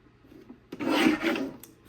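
A paper trimmer slices through card stock in a card-making workshop, one short rasping cut of under a second, close and moderately loud, with quiet handling before and after.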